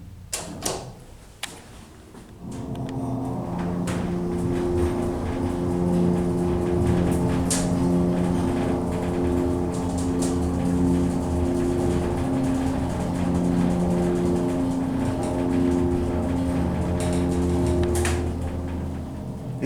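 MEI hydraulic elevator at the George R. Brown Convention Center in downtown Houston, Texas, running steadily with a continuous low motor hum and whine that starts after a few clicks and lasts throughout, close and fairly loud.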